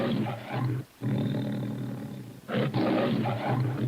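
A lion in old footage growls in long, rough, loud rumbles, two sustained roaring stretches separated by a short pause, close and dominant with no talk over it.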